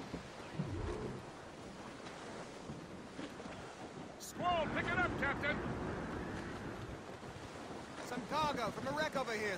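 Wind rushes steadily over open sea in Assassin's Creed Rogue, a constant blustery roar around a sailing ship, joined midway by tonal creaks and faint shouting voices.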